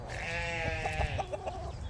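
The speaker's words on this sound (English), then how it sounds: "Sheep waiting for food." Sheep waiting for food on a farm let out a long, wavering bleat followed by shorter broken calls, close and loud against faint background noise.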